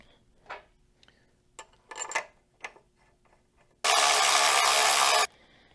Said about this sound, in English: So I'm just going to go ahead and install my caliper, and then I'll put the bolts in.